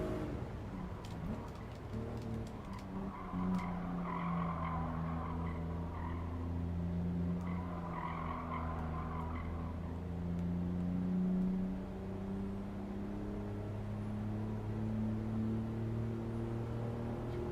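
A slow cruising car in Gran Turismo 7 on PS5 keeps up a steady engine drone that rises and falls gently over about seventeen seconds, with no talk over it.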